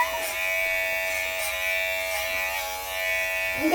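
A Kemei electric hair clipper runs close by with a steady, loud buzzing drone, its pitch wavering slightly as the blades move through hair, with a brief extra rustle near the end.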